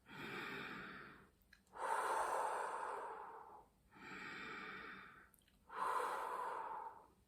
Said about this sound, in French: faites des respirations, plusieurs profondes respirations juste dans votre ventre